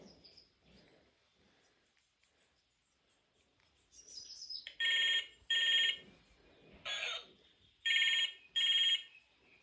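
A toy phone rings with bright electronic trilling bursts, five close loud rings in a regular pattern, following a quieter stretch where someone talks softly and some faint chirps come through.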